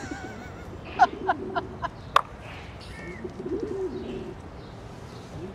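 Pigeons coo softly in low, throaty bursts, with a few brief chirps and background rustling nearby.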